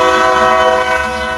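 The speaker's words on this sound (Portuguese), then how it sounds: "Trem barulhento aqui perto." A noisy train passes close by, its horn blaring in a loud sustained chord over a low rumble.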